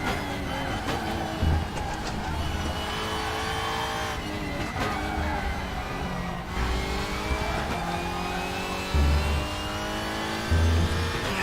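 An Audi race car in RaceRoom Racing Experience roars loud and close, its engine climbing and dropping through repeated gear changes without a break.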